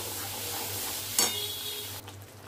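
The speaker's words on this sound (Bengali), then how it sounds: "মশলাটাকে ভালো মতো একটু কষিয়ে নেব।" Spice paste for jackfruit echor is stir-fried in oil, giving a steady close sizzle with scraping stirs and one sharp clink of a spoon against the pan, then a softer sizzle at the end. No one speaks.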